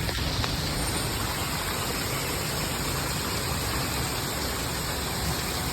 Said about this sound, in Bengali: প্রচুর বৃষ্টি হচ্ছে, প্রচুর